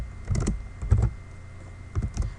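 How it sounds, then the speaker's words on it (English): Fast typing on a computer keyboard, three short clusters of crisp, clacky keystrokes heard up close with brief pauses between them and no talking. "suppose I could just type this as quickly as copy and paste"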